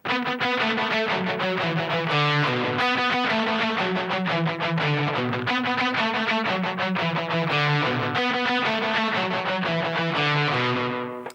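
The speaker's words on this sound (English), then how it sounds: "Okay, now we turn on the delay pedal" Electric guitar plays a fast intro run, each note echoed by a quick repeating delay pedal, loud and continuous with a slightly distorted edge.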